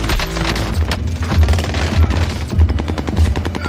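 Rapid gunfire in a video game rattles loud and close as a continuous burst of shots with heavy low thumps, firing nonstop through the whole stretch without any voices.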